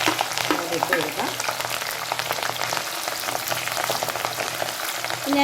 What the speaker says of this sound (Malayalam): നമുക്കതിലേക്ക് ഇഞ്ചിയും പച്ചമുളകും വെളുത്തുള്ളി അങ്ങോട്ട് ഇട്ട് കൊടുക്കാം